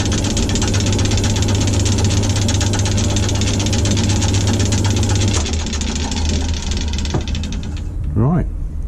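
A wood lathe turning a skull-topped walking stick runs loud and steady with a mechanical hum and vibration, then winds down near the end.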